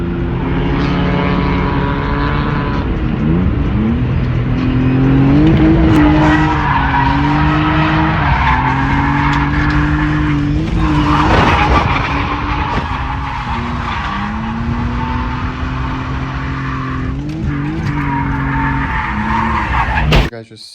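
Car drifting at a Formula Drift event: a loud, sustained engine roar with squealing tires and shifting revs runs nearly the whole time, close and dominant, cutting off abruptly at the very end as it hits the wall.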